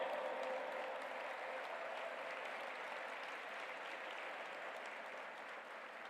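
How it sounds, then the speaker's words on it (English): Sustained audience applause at an interfaith peace summit, honouring a speaker after his address; steady, dense clapping from a large crowd fills the whole stretch without pause, easing slightly toward the end. "give a big round of applause, my friends"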